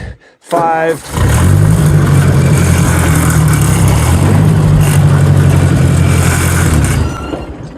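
A 1965 Ford 4000 tractor engine rumbles loudly and steadily at close range after a short burst at the start, holding a low, even throb until it eases off near the end.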